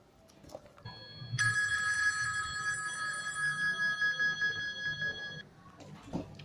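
A telephone bell rings in a steady sustained trill for about four seconds in a quiet house, with faint low room noise before and a brief sound after it stops.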